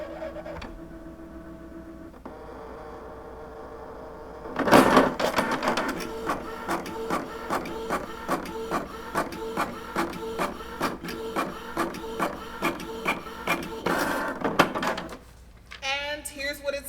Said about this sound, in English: Time to check the couch printer.